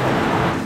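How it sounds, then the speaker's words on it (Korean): A sudden heavy downpour in Mexico hisses loud and dense at close range for a brief moment, with no voices. "우리를 환영하는 듯 갑자기 엄청난 비가 내린다."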